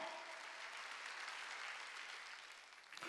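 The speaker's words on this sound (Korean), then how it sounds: "박수치고" A church congregation claps together during a Wednesday worship service, a dense steady burst of applause that holds for about three seconds, then thins and fades out at the end.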